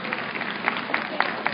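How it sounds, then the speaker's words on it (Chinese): Steady audience applause in a packed hall, welcoming a law professor at a student-movement gathering; dense, even clapping continues throughout with a few sharper individual claps standing out. "那首先我们是不是就掌声欢迎徐伟群老师"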